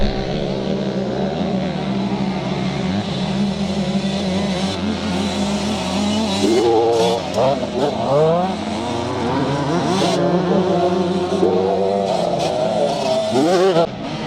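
KTM motocross motorcycles race at a classic charity scramble in Northern Ireland, 2019, with several loud engines revving, rising and falling through gear changes close by, while a voice talks over them.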